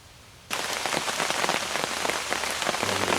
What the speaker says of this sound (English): it's raining too hard for me to get out of the blind right now